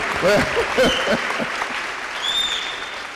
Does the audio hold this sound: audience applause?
yes